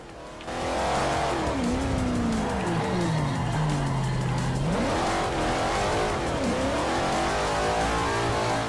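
A car in Forza Motosport 4 roars along loudly, the engine pitch rising and dropping through gear changes while tires squeal through corners, steady and close throughout with no voices.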